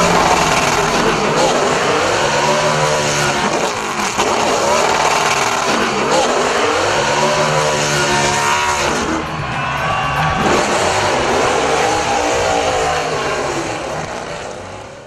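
Race cars pacing at Martinsville Speedway in the iRacing video game: a continuous loud, buzzing engine drone from several cars, rising and falling in pitch as they circle under caution.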